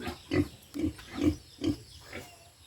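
A pig grunts five times in a steady rhythm, with short pauses between the grunts, in a piggery pen. It is close and moderately loud, and no one is talking.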